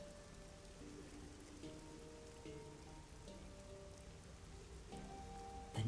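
Steady rainfall in the neon-lit Kamasaki District of the video game Master Detective Archives: Rain Code, a continuous soft patter of drops on surfaces with faint tonal game ambience beneath, even and unbroken, with no voices.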